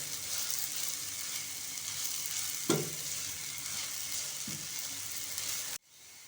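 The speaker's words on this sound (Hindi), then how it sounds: "साथ ही हम इसमें डालेंगे 2 टेबल स्पून भर के घी और इसको मज़ीद भूनेंगे" Semolina roasting in ghee for suji halwa, a continuous even sizzle and frying hiss with one or two brief stirring knocks, ending abruptly.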